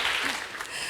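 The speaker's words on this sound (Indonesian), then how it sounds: "Tepuk tangan buat Tuhan Yesus." A church congregation claps for Jesus, a broad steady patter of hands filling the whole second, moderately loud and without pauses.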